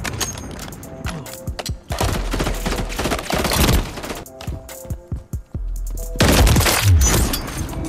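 Sniper rifle shots in Call of Duty: Modern Warfare 3 free-for-all, booming at a distance in several bursts of battle noise amid other gunfire.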